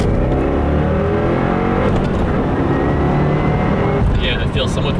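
A 2015 Subaru WRX running E85 on an E30 tune pulls hard in second gear at middle throttle, the engine drone loud and steady from inside the cabin, with a driver talking over it.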